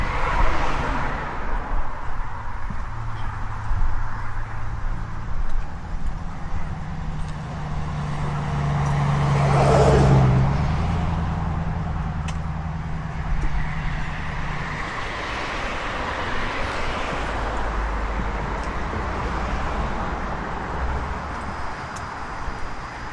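A car drives past on a Dallas street, its rumble swelling to a loud pass in the middle of the stretch and fading away, set against steady outdoor traffic noise.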